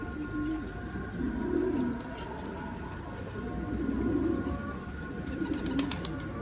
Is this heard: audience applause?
no